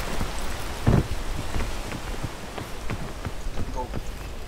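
Rain falls steadily in the video game Peak, with many scattered drop taps over a continuous wash and voices talking over it.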